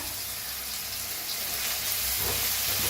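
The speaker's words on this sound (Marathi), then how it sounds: "एक थोडस हिंग आता भाजून घेऊया आता टाकूया कढीपत्ता" Onion, asafoetida and curry leaves frying in hot oil in a kadai for a ridge gourd dish, a steady close sizzle and hiss that swells slightly louder toward the end, with no talking.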